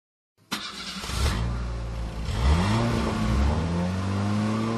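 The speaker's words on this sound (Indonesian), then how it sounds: "Truk pickup." A pickup truck engine in a kids' house-building video game fires up abruptly and then revs steadily, rising and falling in pitch, loud and close with no speech.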